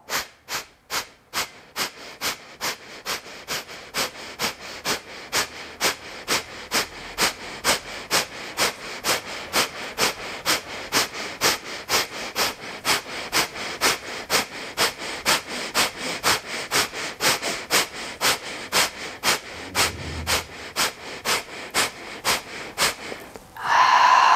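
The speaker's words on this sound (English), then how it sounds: "Start with a small inhale. As you exhale, you pump." Rhythmic forceful exhale breath pumps during a yoga class, a long run of sharp evenly spaced nasal bursts that gradually quicken, close and loud, ending with a deeper breath.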